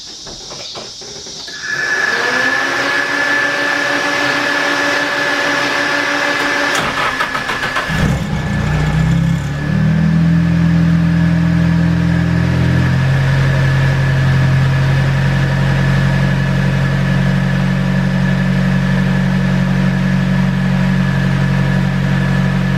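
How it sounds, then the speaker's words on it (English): A car engine cranks and catches, then settles into a steady, loud idle that continues, rising slightly in pitch partway through. "Go ahead and fire her up here."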